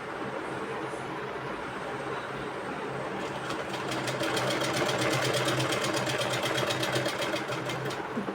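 An electric sewing machine whirs and then drives into a fast, even run of needle strokes stitching a trouser pocket, close and steady, with a motor hum underneath; no speech.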